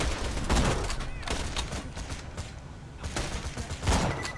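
Rapid SMG fire crackles in Borderlands 2 in dense bursts, with a short lull midway before another loud volley near the end. Game effects and clatter fill the gaps.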